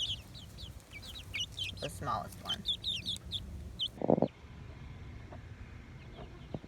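Chickens clucking in a wheeled backyard coop and chicken run: close, scattered clucks and chirps with a brief voice speaking nearby.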